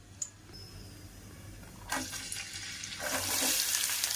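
Whole spices hit hot oil for green chilli chicken, setting off sharp bursts of sizzling that grow into a louder steady fry, with a few close clinks before it.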